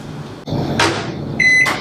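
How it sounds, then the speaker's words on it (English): A microwave oven hums steadily while heating butter in a bowl, with a door clunk near the start and a beep toward the end, close and loud, with no talking. "Microwave this."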